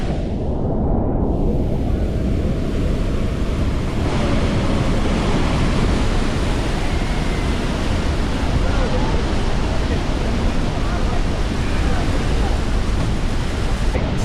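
Niagara Falls roaring beside the Maid of the Mist boat tour, a loud, dense, unbroken rush of falling water and spray with wind buffeting the microphone throughout.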